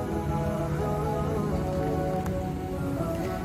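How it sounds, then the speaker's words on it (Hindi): Morning rain falls in Jeddah near the airport control tower, a steady dense patter of drops on surfaces under continuous outdoor noise, with no voices. "तो फ़ौरन बारिश स्टार्ट हो जाती है"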